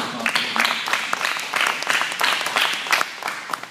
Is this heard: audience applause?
yes